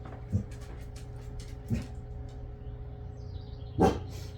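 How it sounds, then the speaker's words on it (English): A dog gives three short, muffled barks spaced a second or more apart, somewhat distant, with a low steady hum in between; the dog is indoors, growling at something outside. "She was growling at God knows what outside"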